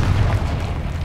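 Confringo fire spell blast in the video game Hogwarts Legacy, a dense low rumbling boom that holds steady and loud through the whole short moment.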